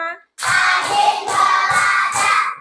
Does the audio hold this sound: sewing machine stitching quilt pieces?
no